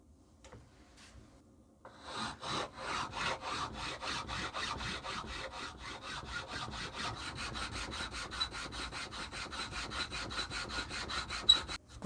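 Band grooves are cut into the fork of a natural wooden slingshot, a close, rapid and even rasping of back-and-forth strokes that continues steadily for several seconds after a brief quiet start.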